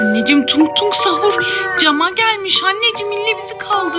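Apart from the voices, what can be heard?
None of the usual background noises is heard.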